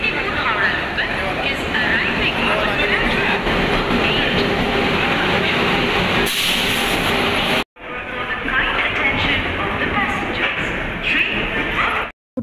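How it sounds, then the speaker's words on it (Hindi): Train pulling into a station platform in India on a Tirupati trip, a loud continuous rumble of rolling wagons filling the scene before a brief cut and the steady roar resuming, with voices talking over it. "ट्रेन हमारी आ चुकी है, अब हम लोग चढ़ेंगे ट्रेन में।"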